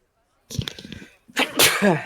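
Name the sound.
sneeze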